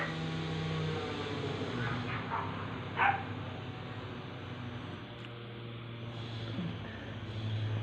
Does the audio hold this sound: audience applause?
no